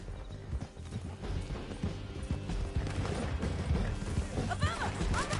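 Horses gallop with steady clip-clop hoofbeats in Red Dead Redemption 2, heading down a canyon, mixed with game sounds and some talk over the hooves.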